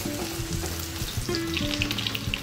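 Chopped onion sizzles in hot oil in a kadai (wok) for a fish curry with potato and cauliflower, a steady, close frying hiss with a low tonal hum running underneath.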